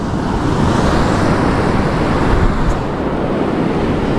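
Surf washes onto Diamond Beach in New South Wales, a loud, continuous broadband roar of breaking waves with no voices.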